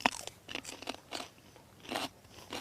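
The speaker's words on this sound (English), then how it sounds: "Standing out here in the sunshine with these crunchy peas." Fresh pea pods get bitten and chewed outdoors in sunshine, a few loud crisp crunches close up followed by wet chewing bursts.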